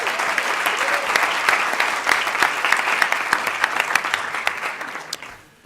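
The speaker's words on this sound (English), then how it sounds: "Please give me a round of applause to welcome our panelists today." Audience at a Harvard Law School media panel applauding to welcome the panelists, a loud, dense, even round of clapping lasting about five seconds before it tapers off.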